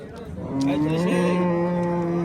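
A cow moos in a long, loud, drawn-out low call at a busy livestock market where dairy cows and calves are traded, with crowd murmur underneath.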